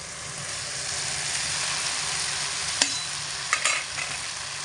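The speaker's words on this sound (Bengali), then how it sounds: "পেঁপে আলু ডাল মশলা সব একসঙ্গে আবারও 1/2 মিনিট মতো খুব ভালো করে কষিয়ে নেব মিডিয়াম আঁচে রেখে" Papaya, potato and mung lentils with spices stir-fry in a pan over medium heat, giving a steady close sizzle with a few sharp scrapes and clinks of a spoon near the end.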